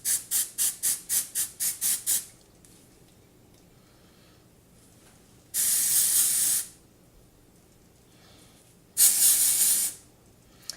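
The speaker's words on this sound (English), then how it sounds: "I'm going to separate and spray." SGX NYC dry shampoo aerosol firing in a rapid burst of about eight short hisses, then two longer continuous sprays of roughly a second each, close and loud against quiet room background.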